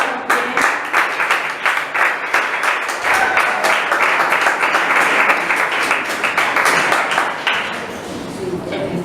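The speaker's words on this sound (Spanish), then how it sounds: "Vamos a recibir con un aplauso a ellos también" A church congregation at a Sunday service applauds young people about to give testimonies, loud clapping that builds from separate claps into a steady round before fading.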